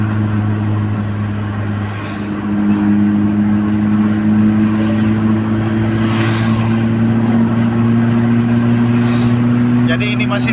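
A car cruises at high speed along a wide, smooth, busy road near Makassar, giving a steady engine drone and constant road and wind roar heard from inside the vehicle, with no break.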